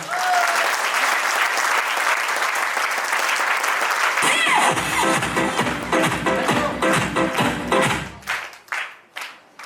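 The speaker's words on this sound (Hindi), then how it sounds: "उसके लिए जोरदार तालियां हो जाएं" Loud audience applause fills a business success talk hall, dense clapping throughout that thins into scattered individual claps near the end, with faint voices underneath.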